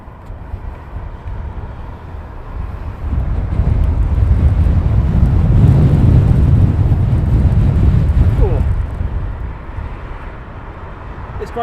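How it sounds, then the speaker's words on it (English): Gusting wind buffets an outdoor microphone at Heathrow Airport, a steady low roar that swells loudly for several seconds in the middle, then eases back to a softer rumble. "the wind disappears"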